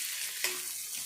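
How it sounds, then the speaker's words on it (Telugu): Soaked chana dal fries in hot oil, giving a dense, steady sizzle close by with a brief stir-like clink, and no talk. "ఈ నానబెట్టిన పప్పు అయితే కొద్దిసేపు అయితే ఈ నూనెలో మంచిగా ఫ్రై కావాలి"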